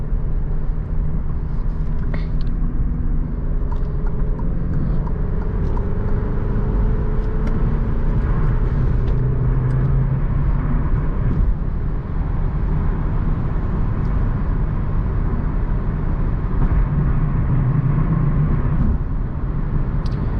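Steady road roar and buffeting wind noise inside an Alfa Romeo Giulia cruising on a highway on a windy day, a loud, continuous low rumble with faint intermittent ticks, no voices.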